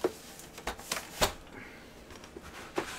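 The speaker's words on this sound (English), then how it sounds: "Just going to pull the actual keyboard out itself." An oversized Cooler Master MECH gaming keyboard being pulled out of its cardboard box, with a few scattered rustles, scrapes and soft knocks of packaging, close and fairly quiet, without speech.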